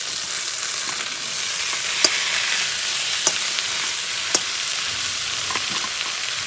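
Khoya (mawa) frying in ghee for Almora bal mithai, giving a steady, dense close-up sizzle with a few sharp clicks and pops from stirring scattered through it.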